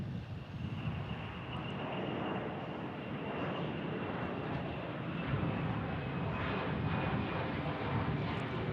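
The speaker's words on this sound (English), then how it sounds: "Okay, that was the quickest takeoff ever." A fixed-wing airplane taking off at Omaha Eppley Airfield, its engine roar a steady, loud broadband rumble with a faint whine, sustained throughout without pause.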